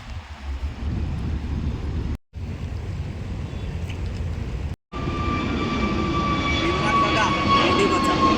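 An IndiGo passenger jet passes overhead above a tidal creek where people are rod fishing, its engine roar a loud continuous drone that swells toward the end, with speech in the background.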